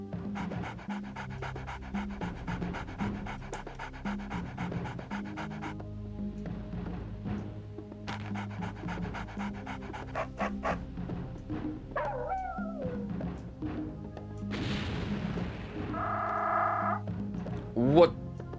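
A dog character in the video game MDK pants in rapid, rhythmic bursts, pausing between them, then gives squeaky, seal-like barking yelps near the end, set against game background sounds.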